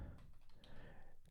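Quick run of light keystrokes on a computer keyboard, soft and close with an uneven clicking rhythm over a faint background hum.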